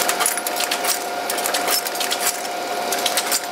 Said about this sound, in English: just the whirring and clicking and clacking of machinery from a bygone era.